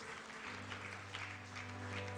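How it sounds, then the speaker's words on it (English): An audience at an evening session of the ICIIT 2023 conference applauds, a faint, distant, continuous clatter of clapping over a low steady hum, brief and with no voices. "would you give Professor Lasit a big round of applause?"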